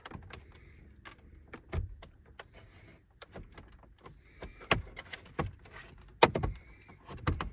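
A tool works at an interior side panel in a 2011 Toyota Tundra, giving a string of close, sharp clicks, snaps and plastic knocks at irregular intervals with quiet gaps between them.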